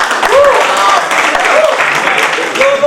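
Lively audience applause welcoming a child at a public event, clapping heard throughout alongside shouting voices and some cheering.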